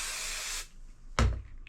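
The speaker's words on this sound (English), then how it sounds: "And you can spray it on either the fabric or the" Spray adhesive hisses from a can onto quilt fabric in one steady, close burst lasting under a second, followed after a pause by a short knock.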